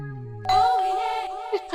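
A bright electronic ding-dong chime rings out once, ringing on over a fading low tone, in a comedy scene of a bell sounding when a hand is placed on someone's head.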